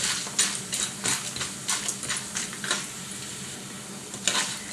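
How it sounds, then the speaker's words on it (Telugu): Cashews frying in a pan of oil for ragi upma give a close, steady sizzle with bursts of crackling and light spatula scrapes throughout, no voices present. "ఇవన్నీ ఎర్రగా ఫ్రై అయ్యాయి"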